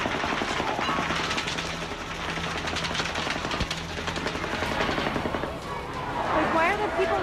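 Gunfire from a mass shooting at an outdoor concert in the United States rattles in rapid continuous bursts, distant and echoing, under a dense crowd din with voices throughout.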